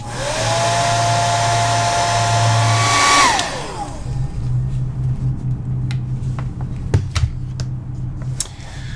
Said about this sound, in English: you can hit it with a hairdryer